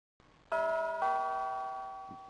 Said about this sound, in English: Let's use the bell pull. Ooh, good bell sound.